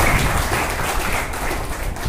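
Audience clapping at the closing ceremony of a first Eastern region coaching camp, a steady wash of many hands sustained evenly throughout without pause.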